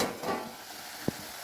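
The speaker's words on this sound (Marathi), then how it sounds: "आता ही आपण तडका आपल्या भाजीत टाकून देऊया." A hot tempering of garlic and red chilli hits cooked amaranth greens with a soft, steady sizzle and frying hiss, faint and close, with a brief stir or utensil tap near the end.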